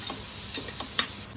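Green chilies tossed into a hot pan while making onion garlic rice, giving a faint steady sizzle broken by a few light taps and stirring clicks over about a second.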